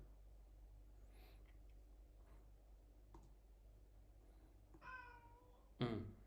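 A cat meows for treats in a quiet room, with faint clicks early on, then two clear meows near the end, the last one louder and closer.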